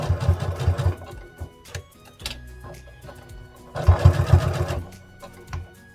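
A sewing machine stitches fabric pieces for a stuffed bear, running in fast rattling bursts that start and stop, with quieter handling noises and pauses between runs.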